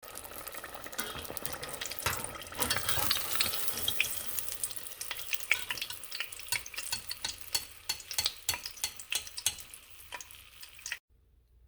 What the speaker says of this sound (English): Okay, it's frying time.